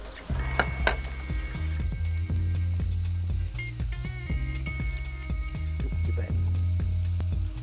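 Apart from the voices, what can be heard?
kangaroo kebabs sizzling in their own marinade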